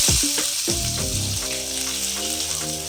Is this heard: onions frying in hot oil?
yes